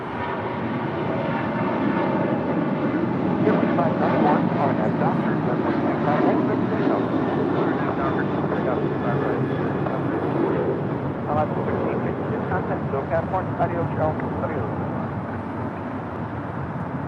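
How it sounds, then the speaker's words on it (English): An Alaska Airlines Boeing 737-800 rolls down runway 25 right on takeoff, its jet engines a loud, sustained roar that builds and holds, with a commentator talking over it. "737-800 now rolling down 25 right."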